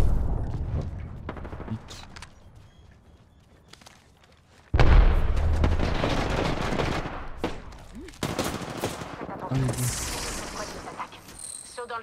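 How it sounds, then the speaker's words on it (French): Apex Legends firefight: a loud thermite grenade burst erupts suddenly, followed by sustained rapid gunfire and sharp explosive pops, with quieter mechanical clicks and faint game voice lines before the blast. "J'envoie une grenade thermique."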